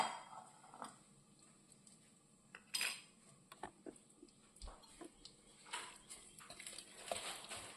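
Erissery curry being stirred in a pot: quiet, irregular clinks and scrapes of a metal spoon against the pot, close by with soft pauses between.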